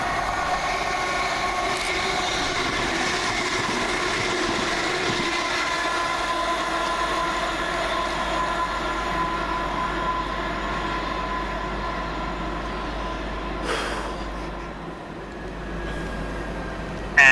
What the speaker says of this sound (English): Next, flying through the station 170-104, working 1M99 from Cardiff Central through to Nottingham.